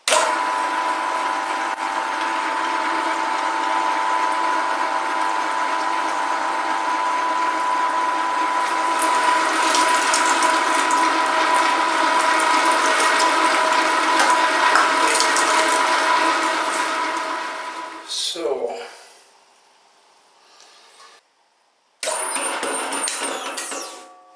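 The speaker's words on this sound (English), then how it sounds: "I will do the grinding now" An electric meat grinder works through sausage meat for German paprika bratwurst, giving a loud, steady motor drone with a constant grinding hum for about eighteen seconds before it winds down, followed by a few brief handling noises.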